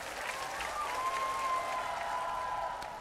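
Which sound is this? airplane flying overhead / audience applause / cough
audience applause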